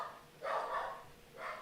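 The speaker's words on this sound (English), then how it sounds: "the dogs are going off now" Dogs bark in the distance from outside a house, two short bursts of barking separated by a pause, faint and unaccompanied by speech.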